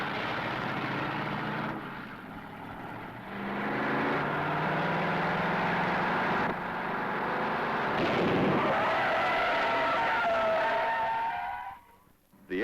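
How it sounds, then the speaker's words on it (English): A 1966 Chevrolet SS 396 makes a panic brake stop. A loud engine roar gives way to squealing, skidding tires that rise into a sustained screech, then drop off abruptly to near silence. "First, Tony Tiger challenged me to a panic brake stop."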